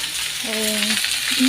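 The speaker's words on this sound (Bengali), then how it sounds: "ভাজা ভাজা হয়ে গেছে, এখন আমি দিয়ে দিচ্ছি তোমার সবজি কটা" Steady sizzling of vegetables frying in a pan, with a brief tonal squeak midway; no one speaks.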